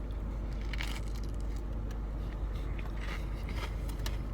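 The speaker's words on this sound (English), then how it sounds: "So, Takis, they can add crunch and flavor to any item you're eating." Quiet, close crunching of Takis rolled tortilla chips comes as a few brief crackly bites and chews, with no talking.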